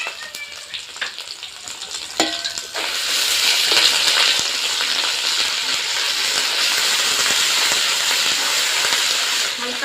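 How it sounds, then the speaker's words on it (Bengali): Fish roe curry spices with garlic paste, cumin, green chili paste, turmeric and salt lightly frying in a pan, a loud steady sizzle that swells after a few seconds and carries on with scattered stirring clicks. "হালকা ফ্রাই করে নেব আমি"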